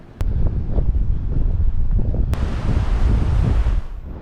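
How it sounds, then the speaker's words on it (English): Strong wind blows across a seashore ledge during lure fishing, buffeting the microphone with a loud, low roar that rises suddenly and holds steady before easing off near the end. "Let's have the wind behind me this time."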